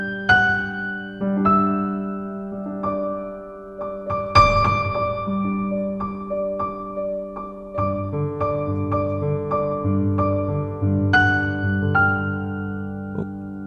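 Piano playing a lively passage in octaves, with rich sustained chords and ringing bass notes, clear and close with no talking.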